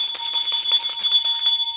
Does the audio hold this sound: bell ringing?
yes